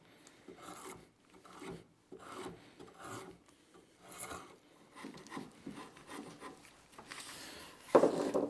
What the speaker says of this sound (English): I'm going to go ahead and get the bark all off these